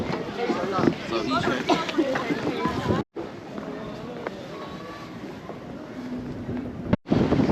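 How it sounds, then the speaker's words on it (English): Cold wind buffets a microphone beside the Summer Palace lake in Beijing, a loud steady rumble and roar with brief dropouts, while a voice talks over it. "The wind is whipping against my face"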